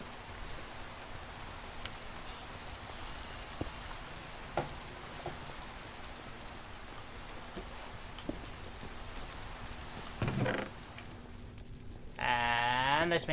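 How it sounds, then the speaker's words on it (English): Rain falls steadily in the Minecraft Sky Factory 5 video game, a continuous hiss with scattered clicks and a few louder game sounds toward the end, with no talking over it. "I'm going to sleep the night away to get rid of this bloody rain"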